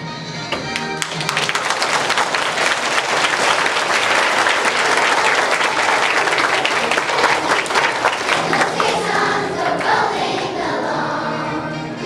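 An audience applauds Army veterans as they stand, with loud, sustained clapping from a large crowd that stays steady before easing slightly at the end.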